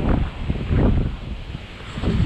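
Strong wind at a cliffside spot batters the microphone in loud, gusting roars that surge and ease in waves, filling the space without any speech.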